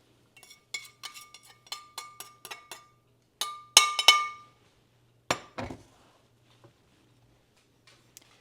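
Clinks and taps of a utensil against a glass dish while pasta is stirred with Boursin cheese, a quick series of light, close strikes followed by a few louder scraping knocks, then quiet.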